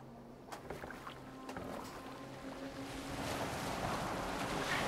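A boat glides across open water in a Viking-era action game, water lapping and rushing against the hull beneath wind, growing louder and fuller after a few seconds, with faint tones early on.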